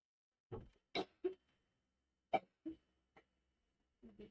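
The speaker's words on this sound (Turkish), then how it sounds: "Öksürüyorum şey oldu ben" Several short, sharp coughs come in scattered bursts, close by and moderately loud, with quiet pauses between them.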